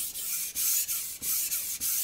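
A knife scrapes in steady back-and-forth strokes on a Suisin 1000 grit whetstone, about six rhythmic gritty rubs with brief pauses between, close and clear with no talking.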